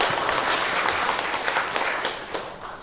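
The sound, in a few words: congregation applauding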